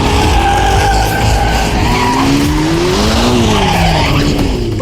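Chevrolet Corvette ZR1 race car skidding hard, a loud continuous tire screech with rising and falling squeal lines over a roaring engine, sustained throughout without talk.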